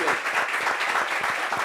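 A TV studio audience applauding a guest, a dense, continuous burst of clapping that fills the room at steady loudness.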